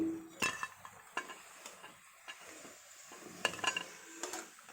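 Fried pakoras made with Malabar spinach leaves are lifted from the pan, heard as a few sharp metal scrapes and clinks of a utensil against the pan over a soft, faint sizzle.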